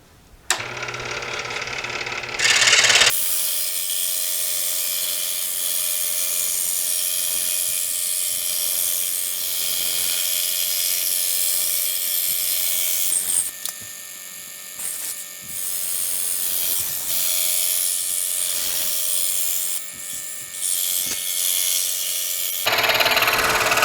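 Scroll saw making a test cut in 1/4 inch Baltic birch plywood, a loud, steady, close mechanical buzz with a fast reciprocating chatter running almost the whole time, starting and stopping abruptly.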